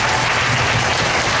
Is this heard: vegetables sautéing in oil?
no